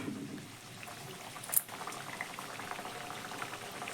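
Spiced wheat-flour puris deep-frying one at a time in hot oil, a steady soft bubbling sizzle with fine crackle throughout and one brief sharper pop midway.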